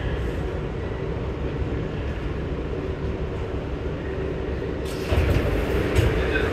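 Steady rumble and rattle from inside a moving New York subway car between Long Island City and the Upper East Side, loud and continuous, with a brighter clattering swell near the end.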